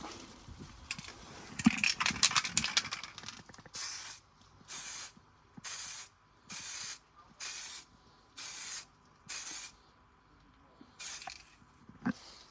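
Spray rattle cans paint a Harley Benton DIY guitar kit in a series of about seven short, evenly spaced hissing bursts, after some earlier rustling and handling noises at close range.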